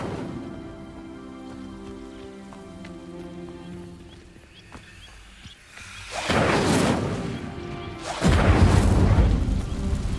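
The Incendio fire spell sets dry vines alight in Hogwarts Legacy: after a quiet ambient stretch, a loud whooshing crackle of flames flares up, followed by a second, stronger burst of roaring fire.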